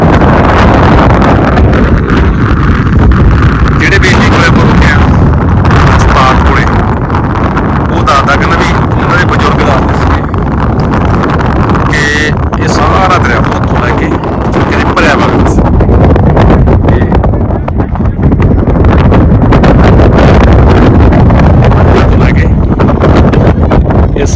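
Strong wind blowing on the mountain road to Nubra Valley from Leh, a loud, continuous roaring rumble buffeting the microphone for the whole stretch, with a voice faintly mixed in.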